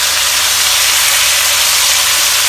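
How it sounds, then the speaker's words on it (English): Marinated pork belly slices sizzle in a hot frying pan, a loud, dense and unbroken hiss that holds steady throughout with no voices. "We'll pan fry our pork belly now."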